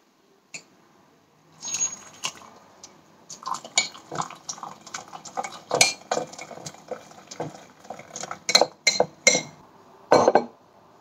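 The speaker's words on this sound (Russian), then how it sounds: "попробуем сначала взбивать ложкой, а потом вилкой" Matcha tea being whisked with a spoon, then a fork, in a glass with hot water: irregular clinking and scraping strokes of metal against glass, in bursts that grow sharper toward the end, with no talking.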